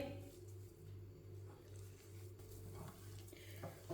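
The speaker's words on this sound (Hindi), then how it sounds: "सब चीज़ों को अच्छी तरह मिक्स कर लेंगे।" A spoon works through a mashed potato mixture seasoned with turmeric, coriander and cumin powder, giving a soft, steady squishing and scraping that continues close and quiet, with no talking.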